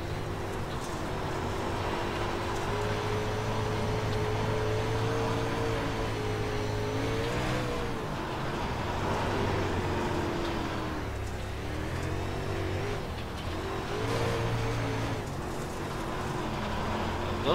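A modified race car in the iRacing game drones and revs through gear changes, its engine pitch rising and falling steadily over continuous road noise.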